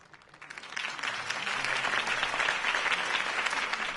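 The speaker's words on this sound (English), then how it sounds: "If only Mr. Wayne, my campaign's largest backer, could have heard that applause" Crowd applauding after Harvey Dent's campaign speech in Batman: The Telltale Series, clapping swelling in within the first second and holding steady as a dense, moderately distant ovation.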